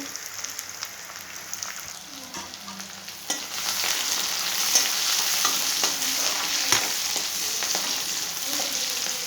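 Onions fry for an egg gravy in a pan, giving a steady sizzle with scraping stirring strokes. The frying gets louder partway through, with no talking.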